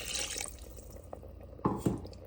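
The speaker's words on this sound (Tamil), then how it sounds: "மசாலா சேர்த்த கையோட கொஞ்சம் தேவையான அளவுக்கு தண்ணியும் சேர்த்துக்கலாம்." Water added to country chicken salna with ground masala: a soft trickle and drip, then two distinct splashy pours near the end, close and moderately loud with no talk.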